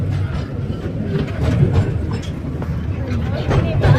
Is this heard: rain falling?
no